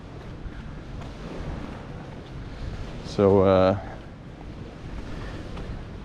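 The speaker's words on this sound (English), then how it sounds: "it's a little bit windy" Steady wind rushes and buffets the microphone throughout on a warm winter day in Puerto Pollensa, Mallorca, with a short spoken word breaking in midway.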